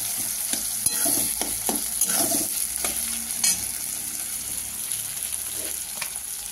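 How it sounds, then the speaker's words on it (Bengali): Chopped onion frying and sizzling in hot oil in a pan after a nigella-seed tempering, stirred now and then with a utensil, giving a steady close crackle broken by several scraping strokes. "পেঁয়াজটা ভাজা ভাজা হবে"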